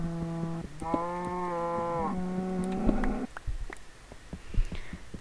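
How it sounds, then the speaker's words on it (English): Cows in the video game Minecraft moo in several drawn-out, tonal calls back to back, loud and close, followed by quieter game sounds. "Stop it, cows!"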